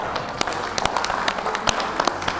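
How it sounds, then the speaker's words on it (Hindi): Applause for the winners of a televised yoga contest, a dense patter of many hands clapping steadily throughout, moderately loud with a few sharper claps standing out. "तो जोरदार तालियां हो जाए।"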